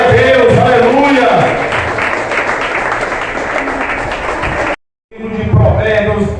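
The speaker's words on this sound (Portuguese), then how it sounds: "De pé, igreja, aplauda ao Senhor." A church congregation claps together loudly and steadily for several seconds, with voices mixed through the applause, then a brief pause of silence before more clapping and sound resume.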